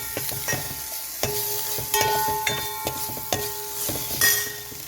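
A spoon clinks and scrapes in a pot of vegetable soup with mushrooms and black pepper, a gentle sizzle underneath and repeated metallic knocks at an uneven pace, close by.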